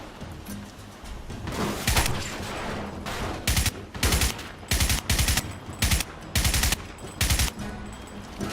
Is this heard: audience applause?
no